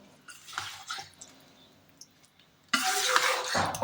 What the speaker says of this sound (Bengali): এই খুন্তিটা ইউজ করছি কেন তলে উপরে খুব ভালো করে মেশাতে পারবো